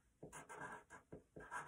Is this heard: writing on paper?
yes